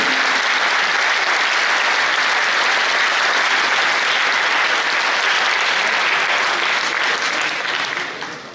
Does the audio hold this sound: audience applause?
yes